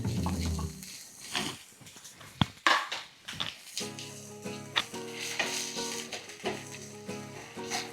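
Onions with ginger and garlic sauté in a hot pan for a Kerala-style chicken curry: a steady sizzle runs throughout, broken by spoon scrapes and clinks against the pan, with no voices.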